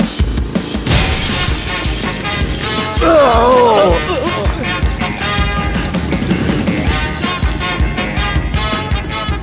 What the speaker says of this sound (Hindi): वो कांच को क्यों तोड़वाया?